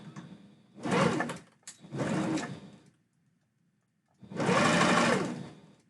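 A sewing machine stitching a fabric husky tail, heard in three close bursts of rapid whirring, the last one longest, separated by short pauses of near quiet.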